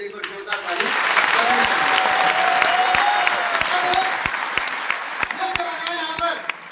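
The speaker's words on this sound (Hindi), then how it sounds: "मैं जरूर चाहूंगा एक बार मेरे गुरुजी के लिए जोरदार ताली।" Loud, sustained applause from an audience fills a motivational seminar hall, steady clapping swelling quickly and holding for several seconds with scattered sharper claps and a voice speaking over it.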